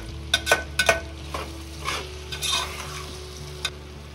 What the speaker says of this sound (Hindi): अब हमने इसको टमाटर के साथ फ्राई करना है